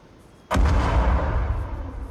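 Friendly artillery strike landing on enemy positions in the video game Patrol Ops 4: a quiet lead-in, then one sudden loud boom whose deep rumble rolls on and slowly fades, with no voices.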